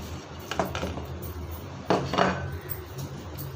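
A spoon clinks against a bowl while mixing lemon juice and spices for tandoori chicken biryani, with two clusters of close metallic scrapes and taps over a steady background.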